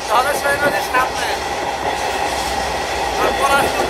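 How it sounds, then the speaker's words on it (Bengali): Stone-carrying freight train crossing a branch rail bridge over the Dhaleshwari river near Dhaka, heard from aboard: loud continuous rumble with clattering wheel beats and metallic rattling. "ট্রেনটি আরেকটি শাখা রেল সেতু অতিক্রম করছে।"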